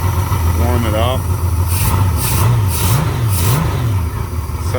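Honda Goldwing GL1500 motorcycle engine with a vacuum leak, running and warming up, holding a steady low idle nearby with a few small rises and dips in pitch, while a voice speaks over it.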